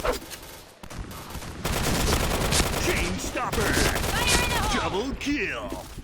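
Rapid gunfire from an XM7 rifle in the shooter game Point Blank, with bullet effects turned on: dense, sustained bursts of shots and impacts, loud and close, running almost the whole time after a short quieter opening.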